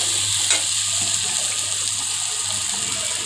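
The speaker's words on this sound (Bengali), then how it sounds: "তেল দিয়ে দিয়েছি তার মধ্যে পরিমাণ মতো পেঁয়াজ দিয়েছি" Onions fry in hot oil with turmeric, giving a steady, dense hiss that stays close and even throughout.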